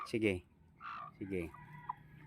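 A brooding hen, lifted up, gives a few short, nasal clucks up close, broken by brief pauses, with faint rustling in between.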